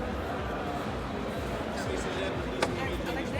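A car door on a 2024 Škoda Kodiaq iV swings shut with a single solid thud late in the clip, heard up close against steady background noise.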